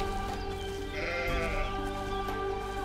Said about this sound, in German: Wo ist denn mein Schaf jetzt?